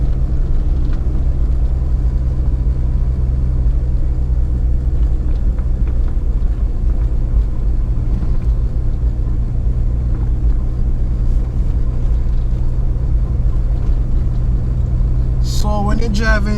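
A car drives along a bumpy road under reconstruction from Watchwell to Pedro Plains in St. Elizabeth, Jamaica, giving a loud, steady low engine and road rumble throughout, with a brief higher sound near the end.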